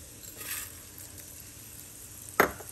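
Fried onions drop into a hot pan of oil while cooking aloo matar sabzi, giving a soft steady sizzle with a brief louder crackle burst near the end, close and alone without talk.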